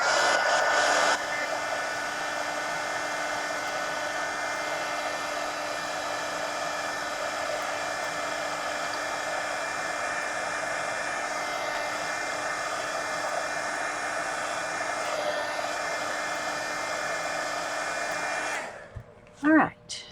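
A hair dryer blows steadily to dry paint on a napkin art journal, a loud, close, continuous whooshing drone lasting most of the span before it cuts off, followed by a brief handling clatter.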